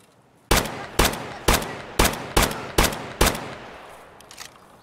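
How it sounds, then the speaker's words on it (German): Video game gunfire in Escape from Tarkov: seven loud, evenly spaced shots, each with a short echoing tail, fired at a steady pace, then a faint ambient lull. "Auf mich wird geschossen."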